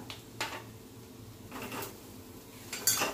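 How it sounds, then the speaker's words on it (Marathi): Cumin potatoes stirred in a pan, with three separate metallic scrapes and clinks of a spoon against the pan over quiet background sizzle. "आणि मग हे 2 मिनिटं असे परतवून घेऊ आपण."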